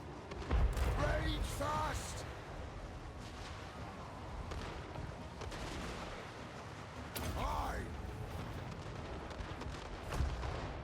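Airship bombs burst in Total War Warhammer III, a string of heavy booming explosions, the loudest near the start and again later, rumbling over continuous battle noise with voices talking over it.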